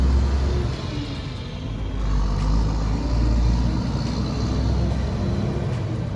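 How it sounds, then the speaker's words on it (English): A big truck passes by with a loud, steady low rumble that swells and holds throughout, no voices over it. "big truck passing by"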